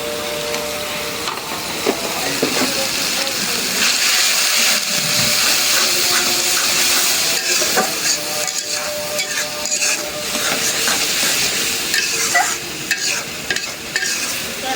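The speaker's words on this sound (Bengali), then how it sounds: "মশলাটা কষানোর সাথে মাছটাও কষানো হয়ে যাবে" A spice paste of chili, turmeric, coriander and cumin powders with dried fish sizzles and fries in a pan, stirred continuously with scraping strokes under a steady, loud hiss.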